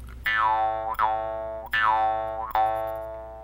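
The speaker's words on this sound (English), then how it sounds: "These are jaw harps, and these are on the Frontier." Four resonant twangs from a jaw harp, each with a swooping, wah-like pitch bend that rings out and fades, evenly spaced and clear with no speech.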